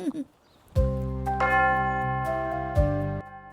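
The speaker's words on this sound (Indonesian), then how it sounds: "Bel gereja pertanda jam telah berbunyi." An old church bell, from a church dating to the 11th century, tolls the hour at five in the evening. Three resonant strikes ring out, each humming on and overlapping the next, after a faint voice at the start.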